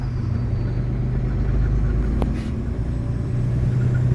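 Steady low rumble of a Peterbilt truck with an automated 12-speed transmission pulling away unloaded, the engine drone continuous and fairly loud with little change as it shifts up through the gears.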